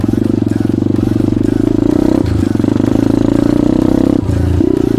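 Pit bike or scooter engine riding a muddy forest track at night, a loud, steady buzzing drone that dips briefly as the rider shifts or hits ruts, with clattering and scraping from the machine throughout.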